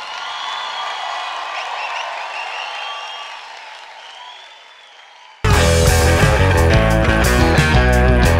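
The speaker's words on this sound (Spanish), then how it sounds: "¡Fuerte el aplauso!" Concert crowd applauds and cheers at a festival show, a sustained wash of clapping with faint whoops that fades slightly before loud band music abruptly cuts in and drowns it out.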